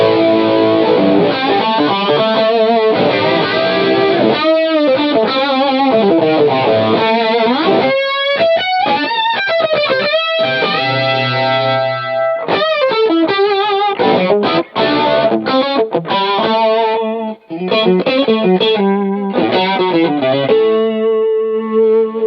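An electric guitar plays through an MXR Rockman X100 analog tone processor on its Edge setting. It is a loud run of heavily distorted, chorus-treated chords and notes with short choppy breaks, and no voices.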